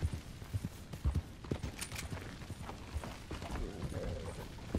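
Horses' hooves clip-clopping in the Western video game Red Dead Redemption 2, a run of uneven close thuds mixed with mechanical rattling, fairly quiet and without talk.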